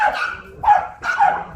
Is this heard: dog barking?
yes